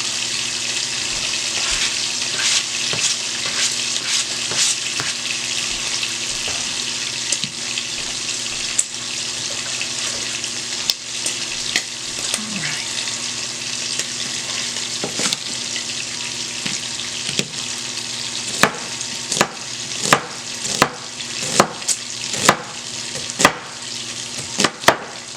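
Bacon fries in a pan for Southern fried cabbage, a steady close sizzle with scattered sharp pops and crackles that grow more frequent toward the end, and no one talking.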